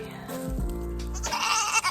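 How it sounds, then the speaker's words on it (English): Goats on a small farm bleat close by, a loud wavering cry that swells midway and trails into a higher, breathy call, with light outdoor background noise. "I'm trying to get the goats some water"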